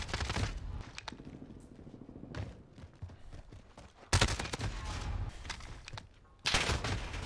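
Gunfire in Call of Duty Modern Warfare during a multiplayer match, with several bursts of automatic fire against near and distant rifle shots. Louder bursts come at the start, around the middle and at the end, over faint footsteps and scrapes.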